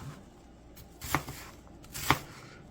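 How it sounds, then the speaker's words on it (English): A kitchen knife chops through an onion, cutting it into chunks for a slow-cooked bean soup: two crisp, distinct thunks on a cutting board about a second apart, close and fairly quiet, with no talk. "I'm just dicing it into chunks."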